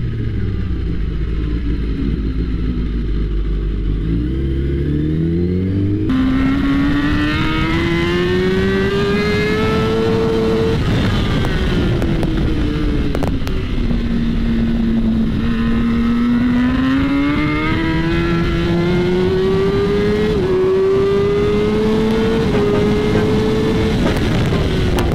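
A motorcycle laps the Dapeng Bay race track, its engine droning loud and close throughout, rising and falling in pitch as the rider accelerates, shifts and brakes through the corners, with steady wind roar underneath.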